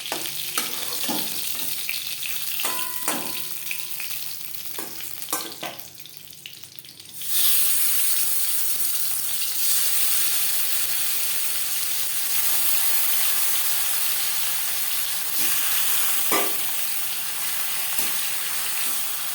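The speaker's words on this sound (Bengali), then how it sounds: "পরের মাছ একইভাবে ভেজে নেব।" Silver carp fries in oil in a pan with a constant crackling sizzle and occasional sharp clicks. The sound dips briefly, then bursts back louder and keeps hissing evenly.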